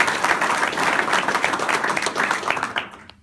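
Enthusiastic audience applause at a business announcement event in Livingston Parish, Louisiana, a dense, steady wash of many hands clapping that fills the room before tapering off abruptly near the end.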